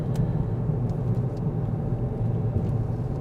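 A Ford B-Max car driving along a country road, a steady low rumble of engine and road noise heard from inside the cabin, continuous and even throughout.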